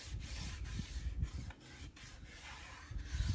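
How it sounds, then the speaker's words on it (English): Hand rubbing and smoothing a transfer onto a wooden surface around a silk-screen area, producing soft, irregular rasping strokes close up, with no talk. "I'm smoothing this transfer onto the wood"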